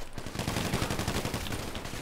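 Rapid bursts of gunfire from a GTA 5 Online adversary-mode match, dense crackling shots rolling steadily and loud through the whole moment, with no voices over them.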